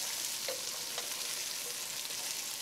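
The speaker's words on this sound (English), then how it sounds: "Fry them with the onions." Onions and powdered spices fry in a pot with Romanesco cauliflower for a green gobi paneer curry, a steady close sizzle with a few light stirring scrapes and no voices.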